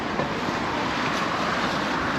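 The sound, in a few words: breezy wind at seaside promenade, Palma de Mallorca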